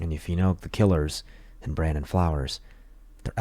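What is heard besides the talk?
No everyday noise stands out behind the speech.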